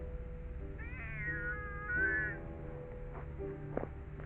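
Stray feral cat in a back garden meowing, one drawn-out wavering meow followed by shorter faint cries, close but soft over quiet outdoor hum.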